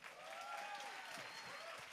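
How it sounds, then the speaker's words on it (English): Conference keynote audience applauding, a dense wash of clapping throughout, with a voice speaking over it. "give him a round of applause."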